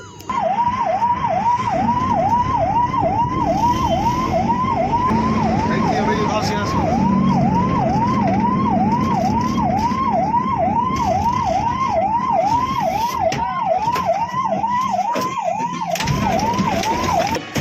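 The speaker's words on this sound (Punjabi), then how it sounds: "ਪ੍ਰਧਾਨ ਸੰਦੀਪ ਵਰਮਾ ਜੀ ਚਲਾ ਰਹੇ ਨੇ ਐਂਬੂਲੈਂਸ" A loud ambulance siren yelps in rapid repeated sweeps for a long stretch, close by, over road and engine noise.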